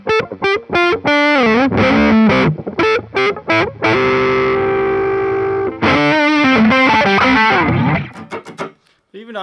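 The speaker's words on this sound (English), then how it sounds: "it's still fat and juicy, but it doesn't get muddy." Heavily distorted riffing from a 1975 Gibson Les Paul Deluxe with a Rocket Red sparkle top on its neck pickup, with effects: short choppy stabs, then a long held chord, more stabs and a trailing fade, all loud and close.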